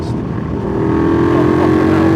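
Car engine revving hard and building as the driver overtakes over a blind crest on a road trip in Germany, a loud, steady drone from inside the vehicle.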